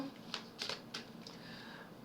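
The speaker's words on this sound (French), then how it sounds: "Donc je rebarre encore les cartes." Deck of playing cards being reshuffled during a card reading, several soft riffling bursts close by over a quiet room hum.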